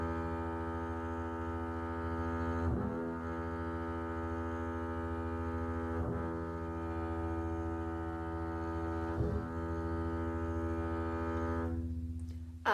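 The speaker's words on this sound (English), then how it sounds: "so it sounds higher when you just touch your finger to the magic note" On a double bass, a finger lightly touching the string at the octave point draws a sustained, humming harmonic. The steady tone is renewed three times with soft attacks, then cuts off abruptly at the end, with no talking.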